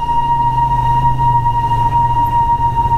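The Darjeeling toy train sounds a sustained, steady horn tone that holds at even loudness for several seconds over a low rumble.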